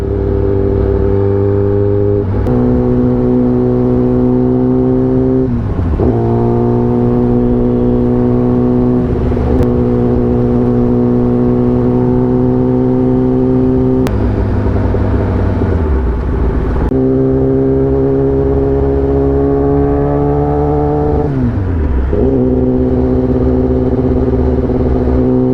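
A superbike on the road, its engine droning steadily with harmonic tones that climb through each gear and drop sharply at shifts, loud and continuous throughout with no talk.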